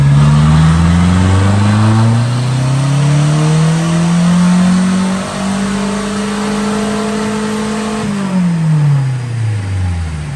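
A car with a homemade turbo build revs hard on a dyno, its engine pitch climbing steadily through the gears, loud and close, then dropping back down at the end of the pull.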